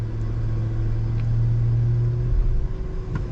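A 2022 GMC Sierra AT4X pickup grinds up an off-road climb, its engine a steady, close, low rumble that roughens and strains slightly toward the end.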